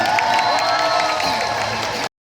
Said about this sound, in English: let's hear it for them